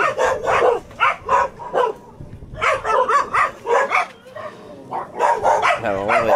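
A dog barks in repeated sharp bursts, fairly close, at a house where a second floor is being built; a few voices mix in between the barks.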